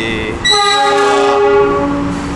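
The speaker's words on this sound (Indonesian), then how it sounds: "Kereta api Mutiara Selatan tiba di stasiun Kiara Condong ya." The Mutiara Selatan train pulls into Kiaracondong station with a loud, sustained multi-tone horn blast sounding close by over the rumble of the rolling cars.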